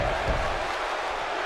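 Wrestling arena crowd in the WWE 2K17 video game: a dense, continuous roar of cheering spectators at steady loudness throughout the short stretch, with no clear voice above it.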